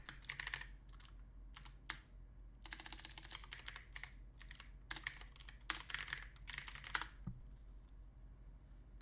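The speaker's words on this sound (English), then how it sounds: "typing the link in for you right now." Fast, close typing on a computer keyboard in bursts of clattering keystrokes with short pauses between, over a low steady hum, no talking.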